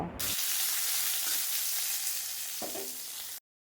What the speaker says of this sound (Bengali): এখন আমি দিয়ে নিচ্ছি এর মধ্যে সচনা ডাঁটা সজনা ডাঁটাটা দিয়েও এখন একটু ভালো করে নাড়াচাড়া করে নেব